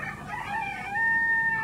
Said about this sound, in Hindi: यहाँ पे देखिए आपको ढेर सारी मुर्गे मुर्गियाँ आपको